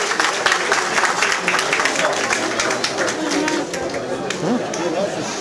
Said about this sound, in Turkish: köylülerimiz de sanıyorum ki alkışlarla ona teşekkür ilettiler